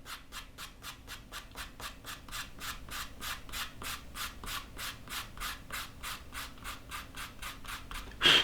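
Sandpaper rubs a leather edge flat in steady, even strokes, around twenty regular rasping passes at close range, with no one talking.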